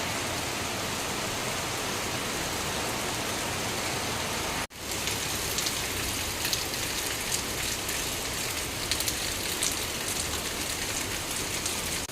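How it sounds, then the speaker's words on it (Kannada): Heavy rain pours down in a dense, steady hiss, briefly cut off for an instant before continuing just as strongly. "ಇವಾಗ ಜೋರಾಗಿ ಮಳೆ ಬರ್ತಾ ಇದೆ ನೋಡಿ"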